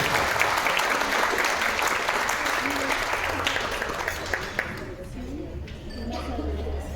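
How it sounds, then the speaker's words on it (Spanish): Audience applause at a public event on gender violence in Mexico, a sustained burst of dense clapping from a crowd that thins and fades toward the end, with a voice speaking faintly underneath. "le demos un fuerte aplauso"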